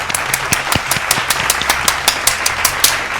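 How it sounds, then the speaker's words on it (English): A short burst of audience applause, with brisk, regular claps that are close and fairly loud. The clapping continues without letting up and has no clear talking over it. "let's all give Cheetos a round of applause"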